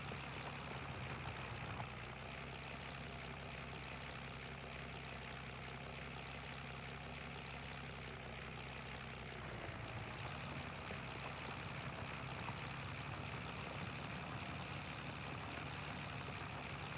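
A tractor engine in Farming Simulator 25 runs steadily at a low idle, a faint continuous drone with a slight tonal shift partway through and no talking.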